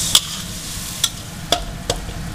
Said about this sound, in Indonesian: Tertumis di cili kering.